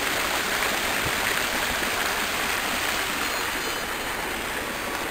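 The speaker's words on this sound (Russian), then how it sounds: "Да, это фонтанчик." A small water fountain outside a water museum in a city park splashes steadily, a dense even hiss of falling water with no talk.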